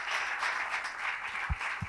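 A church congregation applauds during a worship service, producing a faint, steady patter of clapping that lasts throughout with a couple of soft low thumps near the end.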